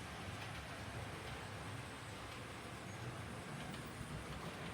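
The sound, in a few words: model railway train running on layout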